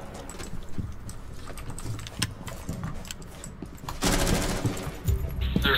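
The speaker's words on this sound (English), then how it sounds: "Enemy fire." Rapid bursts of enemy gunfire in the tactical shooter game Rainbow Six Siege, sharp repeated shots crackling through a steady background, growing louder and denser toward the end.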